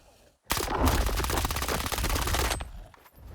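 A loud burst of rapid machine gun fire in the video game STALKER 2 rattles for about two seconds, then cuts off abruptly.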